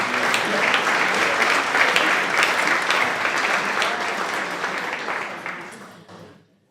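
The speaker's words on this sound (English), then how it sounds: "I think she deserves a round of applause" A round of applause at a county council awards ceremony, a full, dense crowd clapping sustained for several seconds before tapering and fading out at the end.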